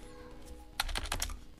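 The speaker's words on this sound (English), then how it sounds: "I keep typing admin" Typing on a computer keyboard, a quiet pause and then a quick burst of four or five close key clicks in succession.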